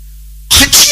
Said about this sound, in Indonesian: Atupah bersin teh keras gitu, coba dikurangi volumenya